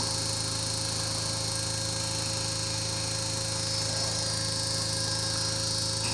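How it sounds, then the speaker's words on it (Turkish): An inverter air conditioner compressor motor runs under test, a constant loud electrical hum and buzz with a steady tonal drone and no change throughout. "Şimdi motorumuzu çalıştırıyorum."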